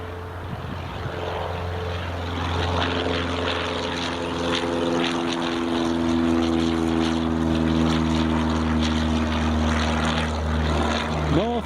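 A Piper propeller light aircraft departs from Newcastle Airport with a steady droning buzz of engine and prop tones, growing gradually louder and then bending in pitch near the end.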